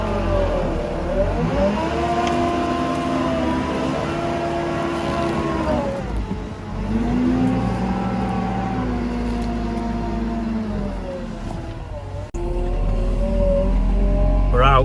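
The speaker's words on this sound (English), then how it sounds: "Put the Merlot in first gear and we'll try and pull it out." A Merlo telehandler in first gear strains to drag a trailer sunk in soft ground, its engine droning loud and steady with long rising and falling pitch as the load shifts.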